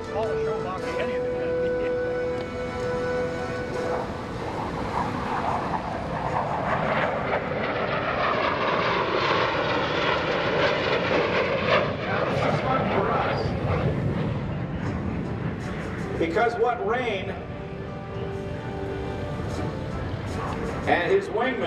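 F-16CJ Fighting Falcon fighter jets at the 2017 NAS Oceana airshow roar past, the jet noise rising and sweeping in pitch as they pass overhead, loud and continuous, with a crowd and announcer audible underneath.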